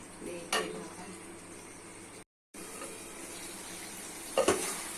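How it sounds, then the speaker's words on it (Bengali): Potato, soybean chunk and chicken curry being stir-fried in a pan, with a soft steady sizzle, a couple of louder scraping stirs, and a brief dropout midway. "সোয়াবিনের মাংস কষা হয়ে গেছে এইভাবে কষে কষে রান্না করে নিতে হবে"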